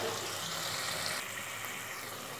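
Chopped tomatoes with salt fry in a hot pan for a Bengali mixed dal, giving a steady close sizzle with a watery, bubbling hiss throughout.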